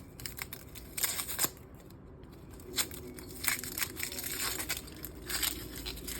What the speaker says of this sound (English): simple, cut the outside layer